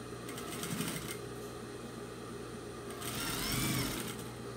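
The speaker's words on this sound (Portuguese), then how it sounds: "Agora vamos costurar a outra." Sewing machine stitching fabric for a handmade Korean-style doll, a steady continuous mechanical whirr with a denser, brighter burst of stitching near the end, close and alone without talk.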